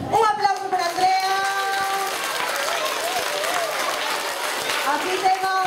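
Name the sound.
audience applause at school talent show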